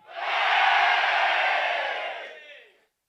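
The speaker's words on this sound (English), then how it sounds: "Everybody from the north, give us a cheer." A large crowd at a briefing event cheers and yells together in one loud, sustained roar. It holds for about two seconds, then fades out.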